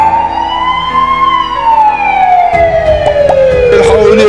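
An ambulance siren wails loudly and close in a children's cartoon story, its tone sliding slowly up then down in a long sweep, with brief sharp knocks near the end.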